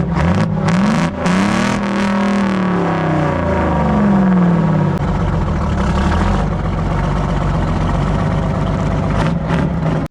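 Loud Ford truck with a 6-71 Detroit engine revving up and down close by, a deep growling roar with rising and falling pitch, then settling into a rough steady rumble.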